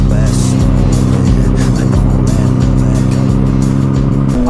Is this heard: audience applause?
no